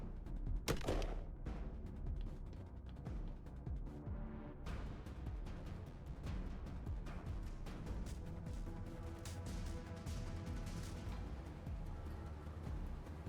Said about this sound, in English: Did you just shoot at this one in the face?